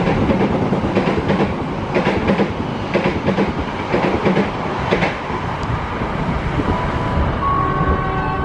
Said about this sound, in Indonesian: Lalu akan melintas kereta api Saunggali